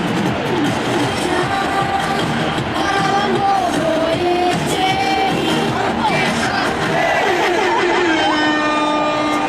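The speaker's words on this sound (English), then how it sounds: "The crowd is in a frenzy." Baseball stadium crowd roaring in a frenzy after a strikeout, a loud sustained wall of cheers with whistles and horn-like tones, voices rising and falling throughout.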